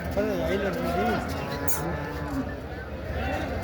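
A cow moos loudly nearby in long, drawn-out bellows at a cattle market in Dabwali, with a bit of outdoor background noise and a brief high squeak.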